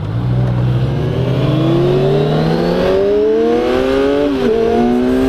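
A 2015 Kawasaki Z1000 motorcycle on a test ride, its engine pulling hard and rising steadily in pitch through a gear, with a brief dip at a shift before climbing again, loud and close with wind roar.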